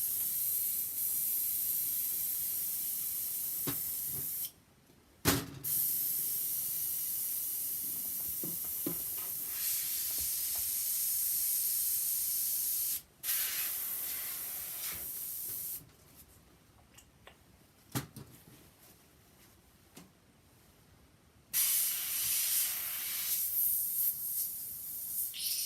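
Water spray rinsing out an RC crawler, bursts of loud hissing spray broken by short pauses and a longer gap, close up.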